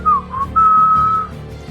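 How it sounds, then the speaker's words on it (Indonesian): A person whistles a short tune while walking along a cold street at night, a few clear sustained notes rising and holding, loud and close with no talking. "bahkan sambil bersiul-siul."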